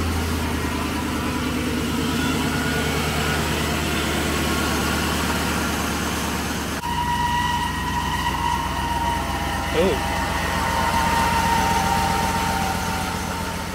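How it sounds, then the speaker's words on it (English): A 2003 Chevrolet Silverado C3500 dually pickup's 6.0L engine idles steadily and close by, a faint thin whine from a worn pulley riding over the low rumble. "Sounds like a pulley's going out on it."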